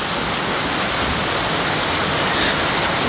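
Heavy rain pours down in a dense, steady roar, loud and continuous with no other sounds over it.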